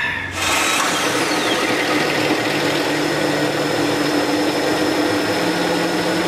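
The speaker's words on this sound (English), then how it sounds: "So we're gonna let this quiet engine run for about 30 seconds" A 2.7-litre V6 engine in a Kia Sportage idles steadily up close, a constant mechanical hum and whir after a brief start at the beginning, with no talking.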